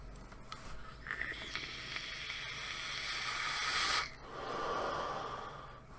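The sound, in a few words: vaping an iStick 60W with a Kangertech Subtank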